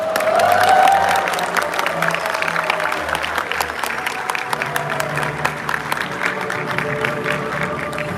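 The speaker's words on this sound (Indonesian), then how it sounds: "Boleh kita berikan tepuk tangan sekali lagi hadirin sekalian" Applause from the audience at an Indonesian volunteer rally, a dense wash of clapping and crowd noise that swells early then holds steady, with a voice briefly rising over it at the start.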